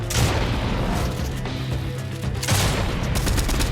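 Gunfire in the video game Fortnite, played in an arena match: dense rapid shots and booming blasts fill the clip with no pauses, rising again in a sharp burst near the end, loud and close with no talking.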